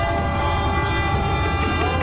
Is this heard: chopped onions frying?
no